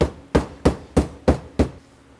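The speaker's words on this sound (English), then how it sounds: "we're going to pound it with the thin side" Six evenly spaced, heavy thuds of a meat mallet's flat side pounding pork flat, each a sharp impact followed by a brief decay.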